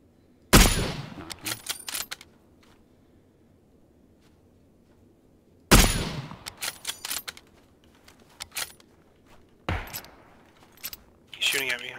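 Bursts of enemy gunfire in a shooter video game: two sharp loud volleys several seconds apart, each trailed by scattered rapid cracks, with smaller clicks and pops between.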